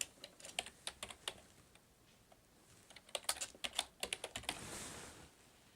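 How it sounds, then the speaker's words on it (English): Typing on a computer keyboard: two bursts of quick, uneven key clicks, fairly close and clear, separated by a short pause, with no talking. "I'll type her name in here."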